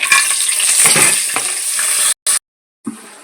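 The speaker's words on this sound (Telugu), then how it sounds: "నూనె అయితే కాగిపోయింది కదా మనం సరుకులు వేసాము" Whole spices crackle and sizzle loudly in hot oil for egg biryani, a dense steady frying hiss that cuts out briefly with a short burst and returns near the end.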